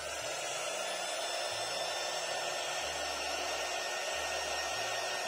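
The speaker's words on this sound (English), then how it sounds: "stick a head dryer and" A hair dryer blows steadily at close range to heat the sticky bottom part of a Samsung Galaxy Note 3 during a restoration, a constant loud whooshing hum with no talk.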